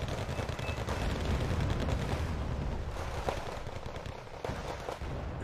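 Mortar and gunfire in the Wargame: Red Dragon battle, a dense rattle of bursts and distant thumps that thins out toward the end, steady and loud with no talking.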